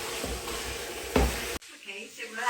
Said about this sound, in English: I'm going to fry them up in the pan.